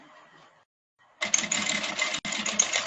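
A sewing machine stitches thread in free-motion technique, starting after a short quiet gap with a dense, steady mechanical buzz that runs close and loud, briefly broken by a tiny pause; a faint voice murmurs before it starts.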